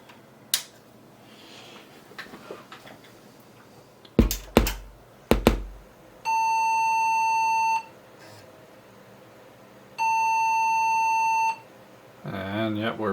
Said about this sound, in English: And yep, we're beeping.